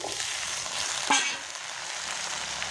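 Cut drumsticks, potatoes and taro sizzle steadily in a hot pan, a broad bright frying hiss with one brief sharp clink partway through.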